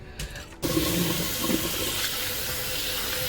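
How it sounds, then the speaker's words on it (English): Sushi rice being washed in water, with a brief pouring splash and then steady sloshing and swirling close by. "you need to wash the rice several times until it becomes clear"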